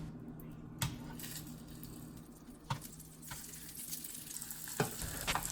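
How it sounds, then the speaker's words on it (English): Breaded meat fries in oil in a non-stick pan over medium-low heat, a steady close crackling sizzle with a few louder pops and scrapes, no voices. "Leave it to fry for 5 minutes."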